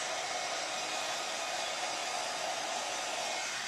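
A hair dryer blows steadily and continuously, close and loud, drying a decoupage glasses case with no other sounds.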